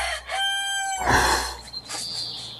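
A rooster crows once, a loud, drawn-out cock-a-doodle-doo close by, followed by a rough, breathy tail.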